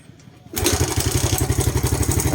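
A Suzuki Smash motorcycle engine with a carburetor fault that stalls on throttle fires up after a brief quiet moment and settles into a steady, rhythmic idle, close and loud.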